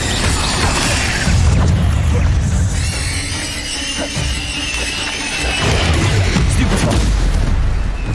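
Incendio fire spell being cast in Hogwarts Legacy, a loud roaring blast with crackling bursts amid ongoing combat noise, heavy and dense throughout, with no talking.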